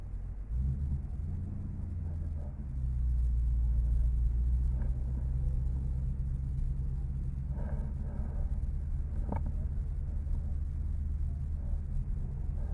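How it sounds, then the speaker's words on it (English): A 2021 Ford Mustang Mach 1 engine rumbles at a low, steady idle on a track, rising slightly in intensity partway through, with a few faint clicks; no voices. "you are in a 2021 Mustang Mach 1 handling pack"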